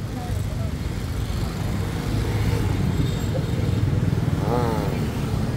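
A motorbike rides along a city street in Vietnam, with a steady engine drone and passing traffic throughout and a brief horn-like warble near the end.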